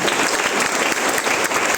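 Loud, sustained applause from an audience at a motivational training session in Muzaffarpur, dense clapping filling the whole moment with no speech over it.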